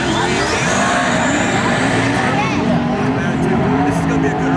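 Drag race cars, a Bullet WS6 and a single turbo LS, roar at a Street Car Takeover event in Houston, giving loud, sustained engine noise with rising tones and tire sounds, while crowd chatter sits underneath.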